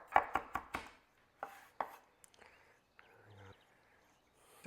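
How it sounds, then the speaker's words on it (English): A knife chops fennel tops finely on a board, a quick run of sharp close taps, then a few slower strikes and small handling noises in a quiet room. "So give this a fine chop with fennel tops."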